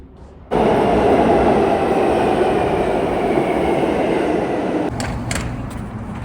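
A subway train in Brooklyn roars loudly and steadily nearby, a dense rumbling drone that starts abruptly and eases slightly toward the end.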